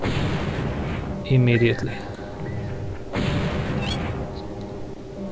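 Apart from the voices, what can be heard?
artillery firing in the video game Spellcross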